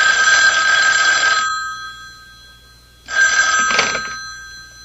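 A telephone bell rings loudly in two long bursts separated by a brief pause, clear and close, with no talking.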